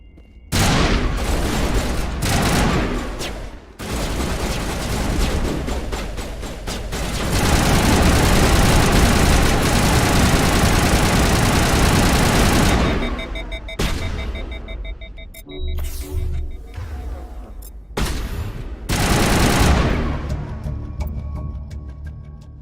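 Gunfire from a Mass Effect shootout during the Feros mission, with loud sustained volleys and booms broken by brief pauses and scattered single shots, plus electronic beeping tones during the quieter gaps.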